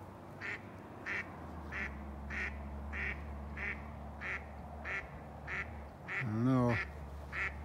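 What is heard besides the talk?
duck quacking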